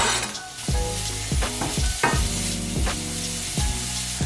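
Onion and peppers sizzle loudly in hot olive oil in a pan, a steady close frying hiss broken by repeated stirring scrapes and knocks from a utensil.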